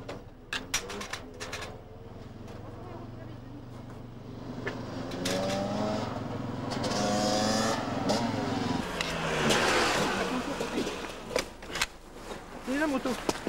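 A motorcycle arrives at a checkpoint of the 1993 Gilles Lalay Classic rally, its engine droning and revving up and down mid-distance while people talk nearby throughout.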